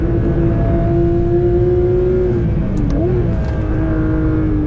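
A Porsche GT3 RS driving fast through Foxhole on the Nürburgring gives off a loud, steady engine drone that holds near and continuous for the whole stretch, its pitch dipping briefly and then recovering as the car loads through the section.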